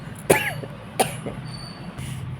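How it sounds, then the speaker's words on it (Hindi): A woman coughs in a warm kitchen after roasting and grinding chillies: two sharp, close coughs about a second apart, then a softer throaty catch. "उसकी वजह से मुझे खांसी होने लगी"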